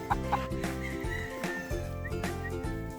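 A Sweater Boston White gamefowl rooster at a game farm clucks in short repeated bursts against a busy background of other birds, fairly close and clear, with no talk over it.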